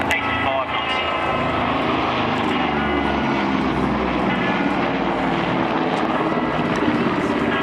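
An RAAF Caribou transport aircraft flies a slow, low display pass at an air show, its propeller engines droning steadily and loudly throughout, with no clear break in the sound.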